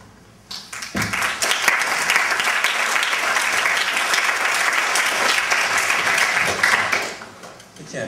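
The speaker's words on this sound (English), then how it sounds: "You can't clap before I say anything." A lecture audience on Grenada and Caribbean radical politics breaks into sustained applause that swells quickly, holds as a dense, even roar of many hands for several seconds, then fades away near the end.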